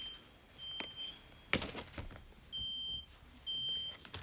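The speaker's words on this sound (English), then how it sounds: "this beeping is annoying." Electronic beeps sound in several sustained bursts, a short one then two longer tones, with thumps and knocks between them, heard indoors during a study stream.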